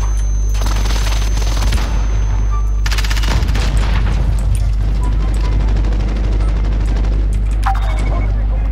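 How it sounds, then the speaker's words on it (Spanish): Real gunshots from outside a room where a shooter game is being played: scattered booming reports mixed with game sounds over a steady electrical hum, while a person talks. "Hay disparos. Y no es en el juego."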